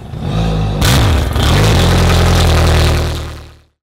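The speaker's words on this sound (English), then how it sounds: "So all you need to do is actually just turn the key and start this engine." A fuel-injected boat engine cranks and catches, then runs at a loud steady idle up close before cutting off abruptly at the end.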